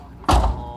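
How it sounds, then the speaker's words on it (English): Oldsmobile 442 door slamming shut with one loud, close, solid thunk that rings on briefly, after a quiet lead-in. "I've been slamming that door for 2 years now."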